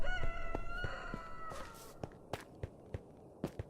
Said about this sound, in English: Love that rooster.